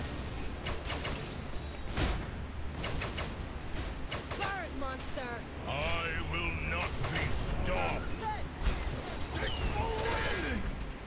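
Gunfire in the shooter game Paladins Strike cracks through a window in quick bursts over the game's ambient noise, while a player talks throughout.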